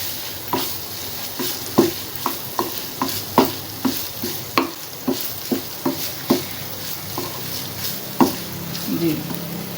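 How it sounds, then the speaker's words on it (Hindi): Keema with green chillies sizzles softly in a pan over a low flame while a spoon stirs and scrapes it in an irregular rhythm of clinks, close up, with no one speaking. "ये हम हल्की आंच पे थोड़ी सी देर बस भूनेंगे इसको"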